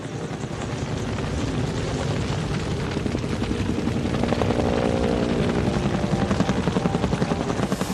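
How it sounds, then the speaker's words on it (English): Firefighting helicopters fly over an Australian wildfire, producing a loud, continuous rotor drone that swells slightly as they pass close by. "Firefighting choppers arrive every minute"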